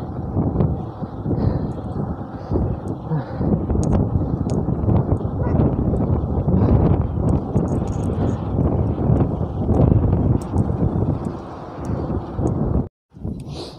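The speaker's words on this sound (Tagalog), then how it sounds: "Ah, ang lakas ng hangin. Sobrang lakas." Heavy, steady wind roars and buffets the microphone during a night motorcycle ride uphill, loud and continuous, cutting out briefly near the end.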